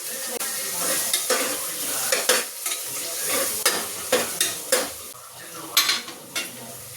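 Chicken biryani masala fries in a pan with a continuous sizzle, while a metal spoon stirs and scrapes against the pot in repeated, sharp knocks and clinks, close and fairly loud.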